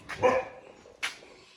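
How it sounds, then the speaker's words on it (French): A guard dog on a pig farm barks twice, a strong close bark followed by a second shorter one about a second later, with no other sound around it. "Et aussi notre ami et un bon chien de garde là."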